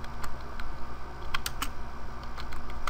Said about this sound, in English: I know you can hear my typing